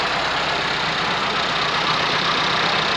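A Massey Ferguson 385 tractor engine, set up to drive a borewell water pump, runs at a steady idle, a continuous loud, close rumbling drone with no talking.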